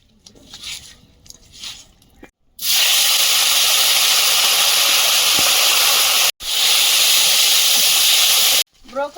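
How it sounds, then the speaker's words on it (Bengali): Small amodi fish hit hot oil in a kadai (wok) and set off a sudden loud, steady sizzling hiss that holds for several seconds, breaks off briefly, then returns, after quiet moments of speech at the start. "এবার আমদি চুনো মাছগুলো এই কড়াই ভেজে নেব"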